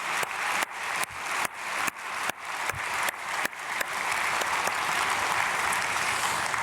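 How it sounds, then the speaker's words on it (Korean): A church congregation at a dawn prayer service claps in unison, a series of sharp, evenly spaced beats, then breaks into continuous, steady applause that fills the room. "박수하겠습니다."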